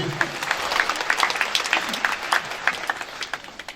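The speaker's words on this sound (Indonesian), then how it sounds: "tepuk tangan dulu Bapak Ibu" Applause from a seated audience at an MC-hosted opening event, a steady patter of many hands with sharper individual claps standing out, fairly close and continuous throughout.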